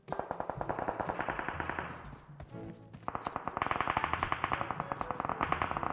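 Automatic gunfire in the mobile battle-royale game PUBG Mobile, rapid bursts of loud shots in quick rhythmic succession, a short lull, then another sustained stream of fire.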